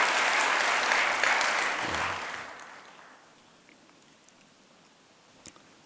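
Congregation applause at a Sunday church worship service, a loud, dense round of clapping that swells for about two seconds, then fades away into near silence with one faint knock near the end.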